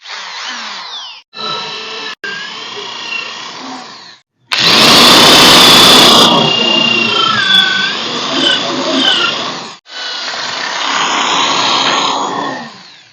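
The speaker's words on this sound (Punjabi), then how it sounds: "ਫਿਰ ਆਪਾਂ ਟ੍ਰੈਲ ਨਾਲ ਗਲੀਆਂ ਕੱਢ ਕੇ ਤੇ ਫਿਰ ਪੇਚ ਪਾ ਲਿਆ" A power drill bores holes in boards for pigeon breeding boxes, several loud whining bursts of varying length separated by short pauses, with motor pitch shifting as the bit bites into the wood.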